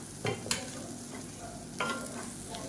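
Crispy fried raw banana is stirred with spice powder in a pan, with a few scraping strokes over a quiet, continuous sizzle.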